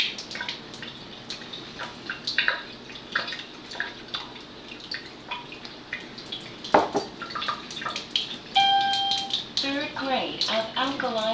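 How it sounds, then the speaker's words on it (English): Alkaline water pours and drips from a Life Ionizer M7 water ionizer, a steady stream with small splashes and clinks, tonal beeps near the end, under a faint voice. "Alkali water is being extracted now."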